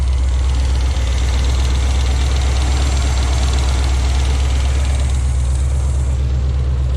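A 1977 Oldsmobile Cutlass V8 with freshly replaced exhaust gaskets idles loudly and steadily, its deep rumble rough from two cylinders not firing, running alone with no talking.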